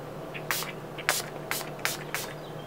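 Makeup priming spray mists onto a face in five short, crisp bursts spaced about half a second apart, close and clear over a faint hum.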